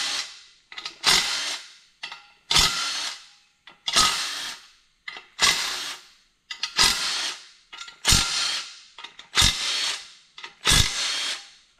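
Milwaukee power tool loosening wheel bolts on a Pro XP build, about eight short loud whirring bursts spaced roughly a second or so apart with brief silences between, close up and alone.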